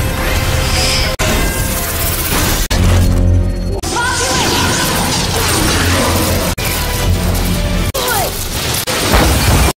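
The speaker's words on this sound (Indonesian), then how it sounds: "Hingga tank itu hancur berkeping-keping." A cartoon tank is blasted apart by combined alien and magic attacks, its breakup a dense, loud run of crashes, shattering debris and bursts over a continuous roaring score with sharp cuts between hits.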